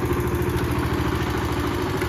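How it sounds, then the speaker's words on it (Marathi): A farm tractor engine idles close by, a loud steady low chugging with a rapid regular pulse and metallic clatter on top, no voices. "आवडतं ट्रॅक्टर चालू"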